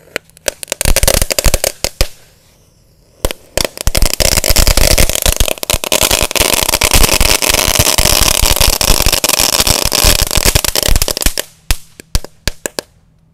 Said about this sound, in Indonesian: Selanjutnya kita nyalakan mercon kretekan atau telur dino kretek.